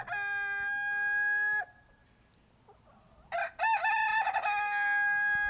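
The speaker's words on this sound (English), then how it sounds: "So I went up to the chickens and stuck the mic in their faces, and they just went nuts." Chickens recorded close-up cluck and crow loudly in two bursts, the first sustained and the second more agitated, separated by a brief quiet pause, with no talking.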